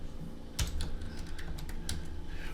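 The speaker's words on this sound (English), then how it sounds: "I'm having a little trouble typing today." Quiet typing on a computer keyboard, a quick uneven patter of key clicks close by with no talking.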